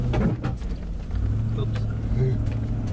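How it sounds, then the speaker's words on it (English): A car drives across a field near an electric fence and accelerates, its engine giving a low, rising rumble that swells in the second half, while people talk over it. "I'm going to accelerate through, John"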